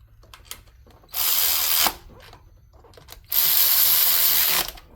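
A power tool tightens a ground wire connector on a 1995 Trans Am LT1 during an MSD ignition upgrade, whirring in two close, loud bursts, the second longer than the first.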